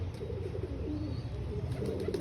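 Domestic pigeons at a house give a short stretch of low, soft cooing nearby, steady and murmuring with no voices.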